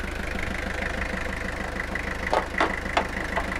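A 1991 Toyota Hilux double cab 4x4 diesel idles with a steady, rapid clatter close by, with a few louder knocks or clicks near the end.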